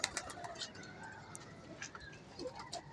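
Soft cooing of pigeons, faint and somewhat distant, mixed with light fluttering and background rustle.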